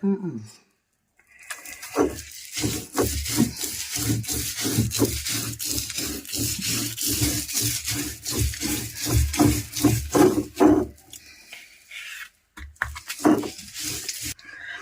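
Rhythmic grinding and rubbing strokes of coconut being ground for a Kerala chutney repeat steadily, a coarse scraping back-and-forth that pauses briefly near the end; no voices.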